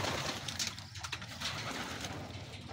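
Racing pigeons return to their loft after a derby from Batangas Port, heard as soft, faint cooing and fluttering bird sounds over a steady background hiss.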